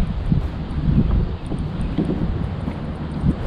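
Wind gusting steadily across a lake during fishing from a boat, a loud close rumble of wind buffeting the microphone throughout with no voices.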